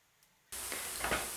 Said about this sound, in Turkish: Orta hararetli ateşte kızartıyorum.